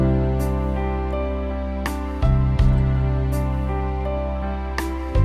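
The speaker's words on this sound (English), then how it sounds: "there's a little bit of a drum beat, and there's a lot of bass going on." A Yamaha Genos 2 keyboard plays sustained chords of a ballad accompaniment over a deep, heavy bass line, with soft, sparse drum hits every couple of seconds; steady and instrumental.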